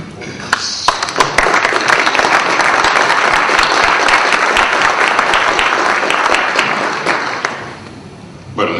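Audience at a panel discussion bursts into applause, dense clapping swelling quickly and holding strong for several seconds before thinning out and fading near the end, with scattered individual claps standing out.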